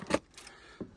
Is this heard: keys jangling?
yes